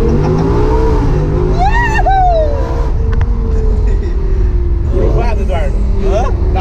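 Audi R8 launch control run, engine revving hard near the limiter with crackling pops over a continuous loud engine drone, rising pitch sweeps audible; people talk over it.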